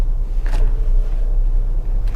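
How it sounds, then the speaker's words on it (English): A passing car on a street during a parking manoeuvre in a driving test, heard as a steady low engine and road rumble that stays loud throughout the clip, with a brief swell near the start. "there's a car coming"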